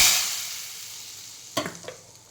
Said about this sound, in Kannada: ಈಗ 1 ಸಾಸಿವೆ ಒಗ್ಗರಣೆ ಹಾಕಿಕೊಳ್ಳಿ